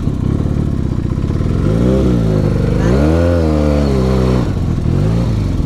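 A motorcycle engine runs loud and close, rising and falling in pitch through a couple of revving surges as it pulls away, with no talk.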